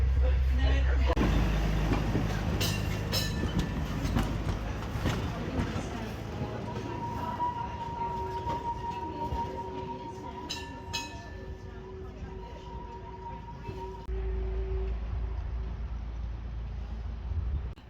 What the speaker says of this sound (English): Welcome aboard Portland Cable Tram.